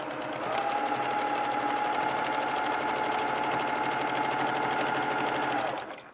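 A sewing machine stitches a quilted pillow cover in one steady, fast, continuous run that hums and whirs close up for about six seconds, then stops abruptly.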